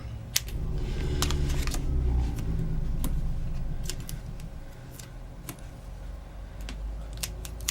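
Scissors cut paper for a handmade card, with a run of close, crisp snips and clicks at an irregular rhythm over a low background hum.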